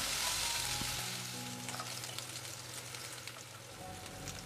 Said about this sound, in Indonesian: Selanjutnya kita akan tumis bumbu halusnya.